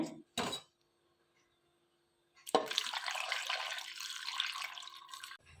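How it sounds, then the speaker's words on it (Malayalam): Water pours steadily into a vessel for a few seconds after a couple of short clanks and a quiet pause. "അത് കഴിഞ്ഞിട്ട് വെള്ളം ഒഴിച്ചിട്ട് വേവിക്കുവാണേ."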